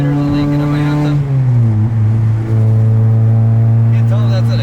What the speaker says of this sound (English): Can't tell if that's an exhaust leak or what.